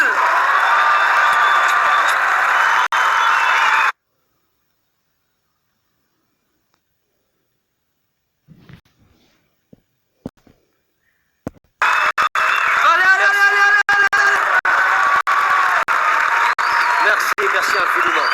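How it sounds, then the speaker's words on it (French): Loud applause with cheering and whistles from a comedy club audience, broken by several seconds of silence and a few clicks before the clapping starts again. "Des applaudissements pour Jamel."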